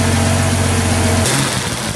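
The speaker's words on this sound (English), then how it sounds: "It's got a wonderful smooth idle." A Jaguar XK120 engine, rebuilt with a big valve head, idles steadily and loud nearby just after its first start, a smooth even rumble that dips slightly toward the end.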